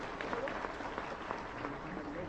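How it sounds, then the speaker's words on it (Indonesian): Crowd at a Javanese-language religious lecture gathering clapping together. A short, even spell of muffled applause with a murmur of voices mixed in, steady and somewhat distant. "Tepuk tangan dulu dong"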